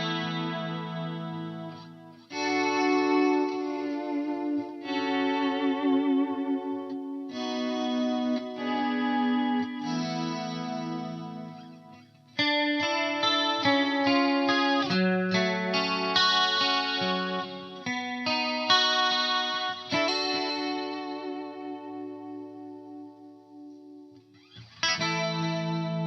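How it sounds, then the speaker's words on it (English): Electric guitar played through an 80s-style wet/dry/wet rig, a miked dry cabinet feeding wet effects and wet cabinets, ringing chords and melodic phrases with lush chorus shimmer and echo, sustained and full for the whole passage. "you're miking one of the speakers from the dry cabinet and then feeding that into the wet effects, which then feed the wet cabinets"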